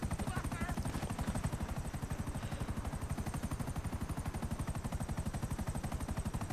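A helicopter in a GTA V Online co-op mission thuds with steady, rapid rotor beats throughout, loud and continuous, with faint gunfire and a voice briefly mixed underneath.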